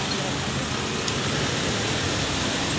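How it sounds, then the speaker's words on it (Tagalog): Traffic on a busy street in the Philippines makes a steady broadband roar of passing vehicles and engines, heard close by and continuous throughout, with no distinct individual cars standing out. "traffic ngayon"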